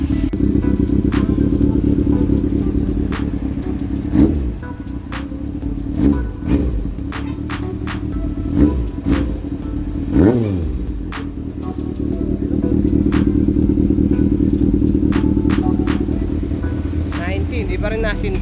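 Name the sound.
Honda CB400 motorcycle engine starting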